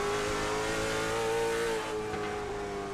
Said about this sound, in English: if you're listening to the engine